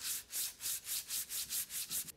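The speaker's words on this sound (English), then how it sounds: "flattening the back of this axe blade here, because we don't actually have to flatten the entire back" Steady back-and-forth rubbing of an old axe blade's back being flattened on an abrasive stone, about eight even strokes with a gritty, hissing texture, close and alone.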